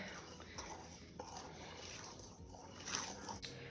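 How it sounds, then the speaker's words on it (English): Flour being whisked into a thick, creamy peanut butter quick bread batter in a bowl, with soft, steady scraping and stirring sounds at low volume. "And whisk this in until everything's well incorporated."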